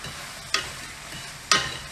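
Flour is stirred into a cooking mixture in a pan for creamy Tuscan chicken pasta. Two short, close scraping strokes sound about a second apart over a faint background hiss.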